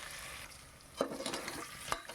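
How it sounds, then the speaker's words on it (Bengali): Potato pieces frying lightly in oil in a pan for a chicken curry, a soft steady sizzle with two sharper scraping stirs of the spatula. "দেখুন আলুগুলোকে আমি ভেজে নিচ্ছি"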